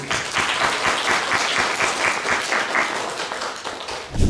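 A church congregation applauds a retiring elder at a retirement and ordination thanksgiving service, with sustained clapping that keeps a loose rhythm and ends in a louder burst.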